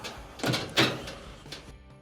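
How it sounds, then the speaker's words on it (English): A dryer door being swung shut during repair of a water inlet valve leak, two solid thunks close by about a quarter second apart, followed by a lighter knock, with no talking. "We'll go ahead and close the door."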